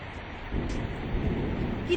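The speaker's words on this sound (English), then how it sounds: "It is raining." Steady rain pours down as a deep thunder rumble rolls in after a brief lull and continues as a low, sustained roar beneath the hiss of falling water.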